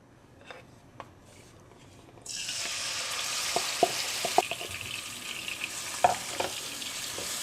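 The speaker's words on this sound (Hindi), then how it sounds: "अब इसमें हम चिकन डाल देंगे" Chicken dropped into three tablespoons of hot oil in a pan bursts into a loud, steady sizzle and frying hiss, with light stirring clicks and utensil taps over it and a few quiet taps before.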